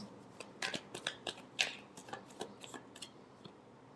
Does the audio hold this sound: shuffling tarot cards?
yes